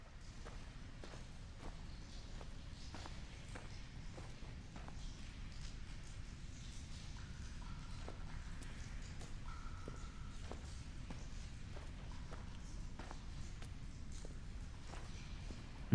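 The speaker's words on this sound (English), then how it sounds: "Over here there were footsteps." Footsteps of a lone walker crossing a desolate island in the game Dear Esther, a steady run of soft regular steps over a constant wind-like rumble, fairly quiet throughout.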